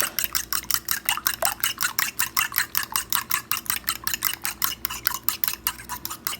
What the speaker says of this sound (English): I'm going to beat these eggs up real good